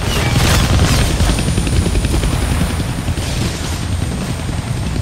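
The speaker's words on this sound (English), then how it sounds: "I can't kill that chopper with my gun" A helicopter in the Deadpool video game, its loud, close rotor chopping as a dense, steady thrumming roar that runs unbroken throughout.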